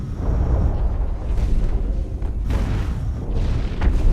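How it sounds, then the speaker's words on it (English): Missiles firing and exploding in the mech shooter Hawken, a dense barrage of deep booms and rumbling blasts, loud and continuous, with sharper bursts rising out of the roar. "here we can just see the missiles firing off"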